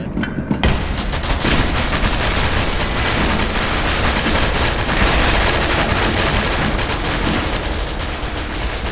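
In the video game SCP: Secret Laboratory, a revolver fires in a fast, loud, continuous barrage of shots that sounds close and dominates the entire stretch.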